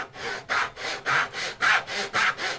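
A hand saw cuts a kerf in wood for a bridle joint with steady back-and-forth strokes, about two per second, each rasping loudly and close up, and no voices.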